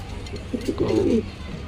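A big male Black Beauty Homer pigeon in a small balcony loft coos a short, throaty run of soft, rolling notes, close and fairly quiet over a low background hum.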